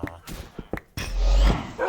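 A dog in the Minecraft video game gives several short yips and barks within a couple of seconds, loud and close, followed by a rushing burst of game noise.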